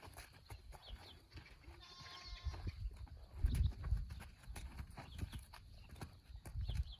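Hooves clop softly and irregularly on the ground, with a few heavier thuds, as a young rescue horse in training walks nearby at a slow, uneven pace.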